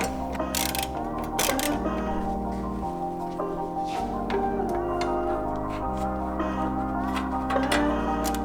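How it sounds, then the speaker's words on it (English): A ratchet works a 10mm bolt loose on a 2008-2014 Subaru WRX STI during a splitter install. Rapid clicking comes close-up in uneven bursts, with a shifting mechanical whir between them. "next we're going to take off this 10mm bolt and slip in our side bracket"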